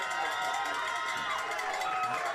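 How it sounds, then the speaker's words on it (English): A football stadium crowd at a KCU game, a continuous roar of many voices, loud and steady throughout with no pauses. "this crowd has Reinhardt rattled"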